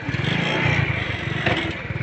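A motorcycle engine runs steadily close by, with a throaty rumble and slight revving swells along with some clattering, as a younger brother is taught to ride the bike.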